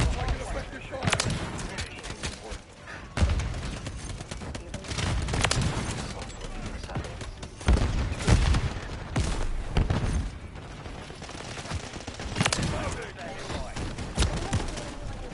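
Call of Duty Modern Warfare 3 gunfire comes in irregular bursts of close, loud shots and booms amid constant combat noise, with people talking over much of it.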